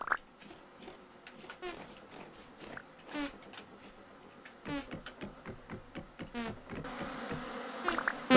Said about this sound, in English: Another batch of bees.